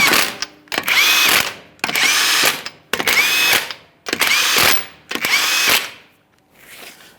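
A handheld power tool runs in five even bursts with short pauses between, snugging bolts in a crisscross pattern on the front lower control arm of a 2015-2020 Ford F-150, loud and close with no talk.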